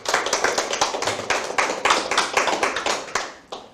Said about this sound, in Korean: 홍천군을 위해서 박수 한번 부탁드리겠습니다